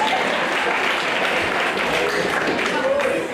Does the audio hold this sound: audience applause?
yes